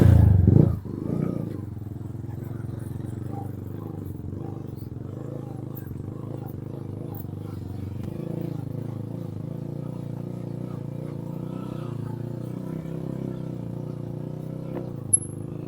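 TVS Apache stunt motorcycle riding basic circles, a steady low engine drone that rises and falls gently as it circles, with a brief louder burst at the start and a sharp click near the end.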